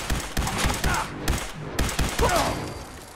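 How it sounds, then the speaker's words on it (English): A turret in the video game Fallout 4 fires rapid machine-gun bursts, loud sharp shots in quick clusters with a short pause between volleys. "Oh, that's a turret."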